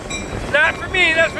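Rock train rolling past a railroad crossing, steady rumbling noise with two brief screeching squeals from the wheels, close by.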